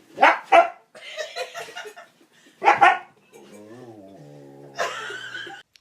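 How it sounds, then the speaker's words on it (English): A dog on a staircase hisses and barks in short, loud bursts, with a drawn-out wavering hiss or whine in between, while people talk and laugh nearby. "What dogs hiss like that on the stairs?"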